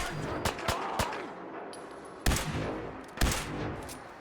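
Gunfire in the video game Fallout 4 during a fight with super mutants: a string of sharp, loud gunshots, several quick early cracks followed by two heavier blasts later, all close and with no voices.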